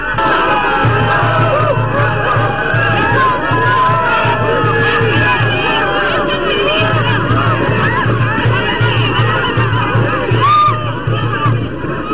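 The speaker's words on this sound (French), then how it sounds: "La foule en liesse est aussi présente pour souhaiter, dans une ambiance festive, la bienvenue à l'hôte de marque" A jubilant crowd cheering and shouting to welcome a visiting sovereign at a festive outdoor gathering, loud dense babble with a steady rhythmic drumbeat pulsing underneath.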